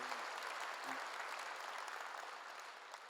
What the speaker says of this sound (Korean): 빨리 박수 하세요.